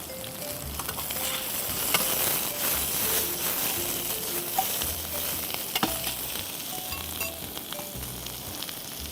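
Diced onions fry in a pan for a mushroom stir-fry, a steady broadband sizzle with occasional spoon scrapes and clicks, heard up close without talk.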